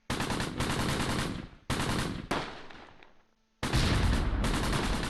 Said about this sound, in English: That tank's shooting at us.